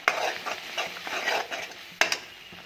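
A spoon scrapes and stirs dal in a metal pressure cooker with repeated strokes, followed by a couple of sharp clinks near the end.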